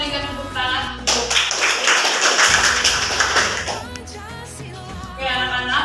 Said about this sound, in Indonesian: Mari kita berikan tepuk tangan untuk